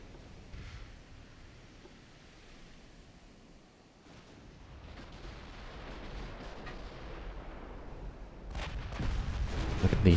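Naval 6-inch guns fire in a battle in Ultimate Admiral: Dreadnoughts, heard as faint, distant booming rumbles that build toward heavier, closer blasts near the end, with no talk.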